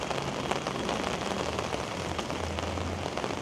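Heavy rain falling on a city street in Toronto's Moss Park and Regent Park area, dense steady patter of drops on hard surfaces, close and continuous with no voices.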